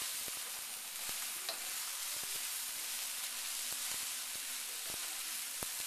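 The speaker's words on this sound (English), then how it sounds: "Alright, nice sizzling sound. That means we're frying stuff." Stir fry sizzles in a hot pan, a quiet steady hiss broken by frequent small crackles and pops, heard alone without talking.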